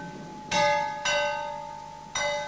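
Church bells ringing close and loud, three clear strikes with long, shimmering decays overlapping one another, the tones sustaining between hits and heard alone without talk.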